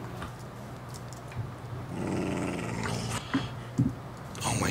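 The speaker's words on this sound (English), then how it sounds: "these dogs are gonna be the death of me, I swear" Wolf-like dogs in Minecraft growl and snarl in low, rumbling bursts, fairly close and mixed with game sounds, with no talking over them.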